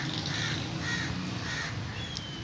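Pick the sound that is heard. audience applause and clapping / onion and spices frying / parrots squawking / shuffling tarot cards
parrots squawking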